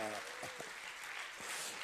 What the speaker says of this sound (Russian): Настоящие аплодисменты!